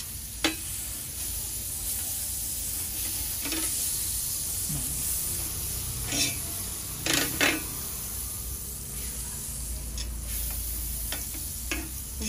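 Margarine sizzling in a pan ahead of grilling tuna steak, a steady close frying hiss with occasional sharp ticks and clicks of utensils scattered throughout.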